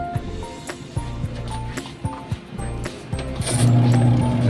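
A washing machine runs just after its gear case replacement, giving rhythmic mechanical thumps and agitation churning roughly every half second, close and moderately loud, with a louder whirring surge near the end.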